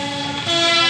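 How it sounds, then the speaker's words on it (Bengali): A train pulls into New Jalpaiguri (NJP) station, a loud, close, sustained tonal horn-like blare with dense harmonics that swells midway through the second-long moment. "আর ট্রেন ঢুকিয়ে দিয়েছে"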